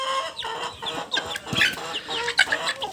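Farm chickens cluck in quick, irregular bursts, several birds close by and overlapping in a busy poultry shed.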